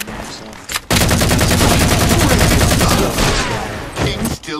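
Gunfire in Halo 4 multiplayer free-for-all, with sniper shots among the action: loud, near, rapid bursts of shots that nearly fill the clip, then a few trailing shots as it fades.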